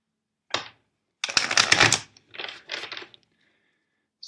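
Cards are riffled and shuffled in a few quick bursts, crisp and close, with short pauses between them.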